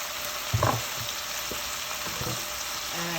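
Aromatics hit a hot pan alongside eggplant and pork belly for a Korean dish, a steady close sizzle with a few stirring clatters and scrapes breaking through.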